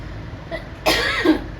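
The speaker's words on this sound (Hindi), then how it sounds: "सॉरी, मुझे खांसी भी बहुत आ रही है" A woman clears her throat and gives a short, raspy cough, close to the mic, over a low background hum.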